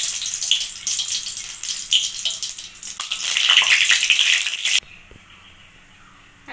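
Nigella seeds and two dried chillies hit hot oil in a pan and sizzle loudly and steadily up close, then the hiss drops suddenly to a quieter crackle.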